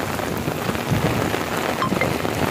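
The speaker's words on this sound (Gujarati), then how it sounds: "ફૂલ વરસાદ છે." A heavy downpour drums steadily on surfaces nearby, a thick, unbroken hiss of rain with scattered sharper drips and no voices.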